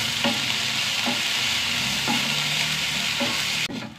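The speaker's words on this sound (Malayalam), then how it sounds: "നന്നായി വഴറ്റിയെടുക്കും." Sliced okra sautés in a hot pan with a constant loud sizzle, and a spatula stirs it in a few soft periodic strokes before the frying noise suddenly drops near the end.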